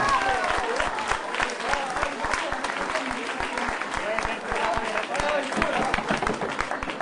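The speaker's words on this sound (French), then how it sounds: "Vous pouvez les applaudir très fort." A crowd applauds prize-winning pairs at a Christmas pétanque-style tournament in Cavalaire, with loud, dense, sustained clapping filling the room and some voices audible beneath it.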